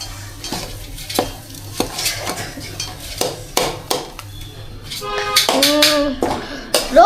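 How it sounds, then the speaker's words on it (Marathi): Coriander goes into a kadai during Mumbai-style vada pav cooking, followed by repeated scraping stirs of a utensil against the pan over a faint sizzle, with brief clattering and a rising hiss near the end. "आता आपण कोथिंबीर कढईमध्ये टाकणार."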